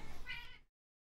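A house cat gives a single short meow, close and fairly soft, that fades out after about half a second and leaves silence.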